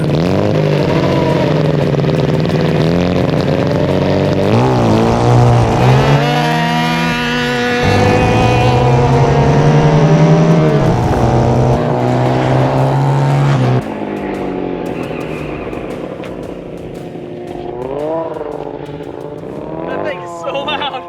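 Shifter go-kart engines roar loudly side by side in a drag race, revving with rising and falling pitch sweeps through gear changes, then easing off as the run ends; loud and continuous throughout.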